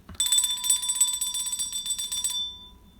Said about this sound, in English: Hit the bell, you got it.